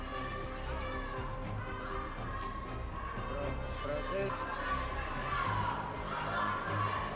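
Protesters shouting from the gallery interrupt a session of the Spanish Congress, a continuous din of raised voices and crowd noise echoing through the chamber at steady loudness throughout.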